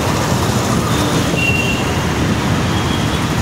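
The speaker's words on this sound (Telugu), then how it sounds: "మెట్రో అండి, పక్కనే మెట్రో." A metro train passes nearby in heavy Hyderabad city traffic, a steady loud rumble and roar with a faint metallic squeal partway through, blended with constant road noise.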